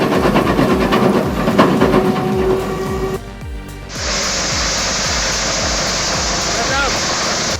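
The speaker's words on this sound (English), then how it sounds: "The Petzolato PTH 300XL doesn't just chip, it devours." A Petzolato PTH 300XL wood chipper with a 90-horsepower engine chips oak logs, a loud close grinding roar with rhythmic thumps, briefly dropping before a harsh high-pitched shredding surge.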